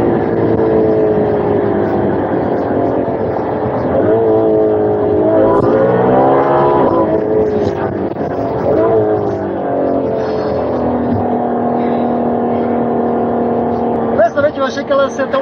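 Ferrari F12 Berlinetta engine pulls hard under acceleration, a loud rising wail sweeping up through the revs and shifting again and again, heard from inside the car with people talking.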